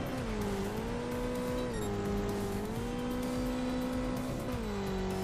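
A quad bike engine in the Trial Fusion video game drones loud and steady, its pitch rising and falling as the throttle shifts, close and unbroken with no voices.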